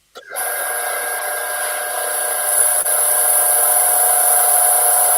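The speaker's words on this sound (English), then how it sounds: "Now, start the lathe up and push the shavings against the bowl." A wood lathe spins a bowl while a handful of its own shavings is pressed against the surface to burnish it, giving a steady, loud, continuous rubbing hiss with a high whine that runs unbroken after a brief start.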